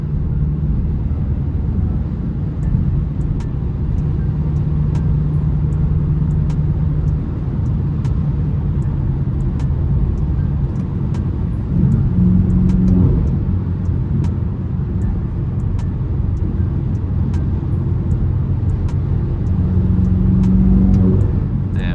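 A BMW M6 engine drones loudly in an enclosed, echoing tunnel, holding a steady sixth-gear pitch with brief surges.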